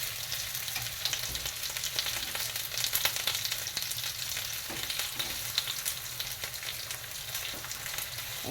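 Potatoes frying in a pan for a potato frittata with ham, mushroom and cheese, giving a dense, continuous crackling sizzle with occasional stirring noises, close and steady throughout.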